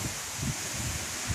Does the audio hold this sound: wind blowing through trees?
yes